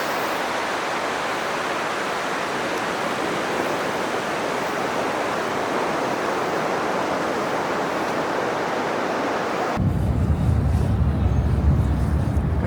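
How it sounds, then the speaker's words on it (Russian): Ocean surf breaking on the beach at Agadir, a loud, continuous roar of waves that swells heavier toward the end with a deep rumble. "Океан прям живет аж."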